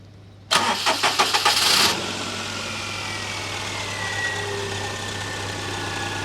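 A Daihatsu Charade engine cranks with a few rapid chugs, catches and fires up, then settles into a steady, even idle close by.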